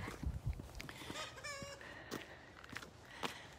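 A chicken clucks and crows in a neighborhood alley, fairly distant and faint, with scattered short calls and one longer rising crow against quiet outdoor background.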